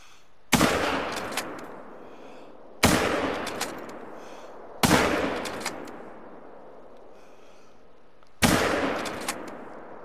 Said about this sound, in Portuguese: Vou tentar atirar também